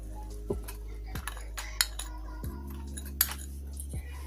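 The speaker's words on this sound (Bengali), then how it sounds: "বাকি চিনিটাও দিয়ে দিলাম খুব ভালো করে এইভাবে ফেটে নেব" Sugar beaten into pound cake batter with a whisk, giving light irregular clinks and taps of metal against the bowl, close and fairly quiet, with a few sharper knocks.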